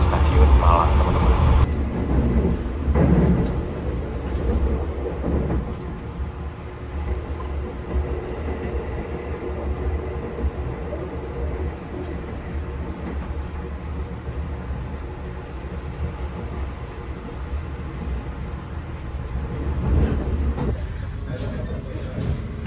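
Inside a KA Majapahit New Generation economy-class train, the carriage rumbles with a loud, steady low roar and rattle as it runs, a constant mechanical drone throughout with a brief louder burst near the start.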